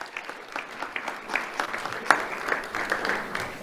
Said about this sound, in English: Let's have a round of applause for Adiam Montalvo Martinez.